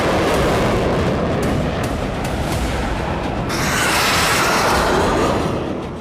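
Rocket and missile blasts striking Kiryat Shmona, Israel, heard as a continuous loud, dense roar of booming rumble throughout, swelling brighter and harsher in the second half, with no voices.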